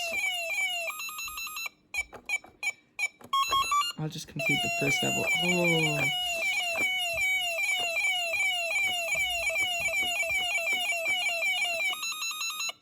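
Shrill electronic beeps and warbling tones from a handheld VFD Pac-Man game play loudly and continuously, with a descending sweep midway; a voice speaks briefly over it.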